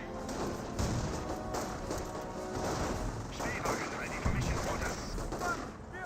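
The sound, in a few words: gunfire in Company of Heroes video game battle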